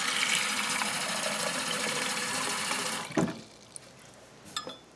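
Water gushes steadily from a turned-on tap for about three seconds, a loud broadband rush, then cuts off abruptly, leaving a quiet room with a couple of small knocks.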